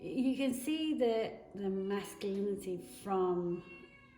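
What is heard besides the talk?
No distinct noise like a dog, phone or traffic.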